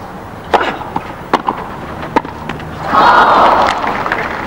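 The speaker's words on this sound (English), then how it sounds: "You can hear the whole feeling of the crowd." A tennis crowd at the 1975 Australian Open final between Newcombe and Connors: a few sharp hits and thuds, then a swelling cheer and roar that rises and carries on loudly to the end.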